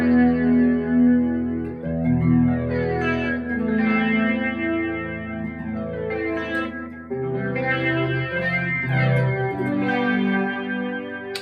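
A PRS SE Swamp Ash electric guitar plays sustained chords and melodic phrases through effects pedals, including a Tone City Durple and a NUX Analog Delay, with chorus, echo and some distortion, heard alone.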